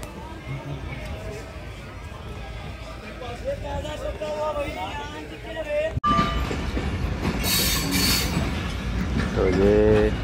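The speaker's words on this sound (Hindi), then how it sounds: "ये हज़ारा एक्सप्रेस रोहड़ी स्टेशन पर प्लेटफॉर्म नंबर एक पर अभी आई है" The Hazara Express rolls into Rohri station at platform one with a steady rumble and clatter. The sound swells louder as the train nears, and voices and crowd babble carry over the platform.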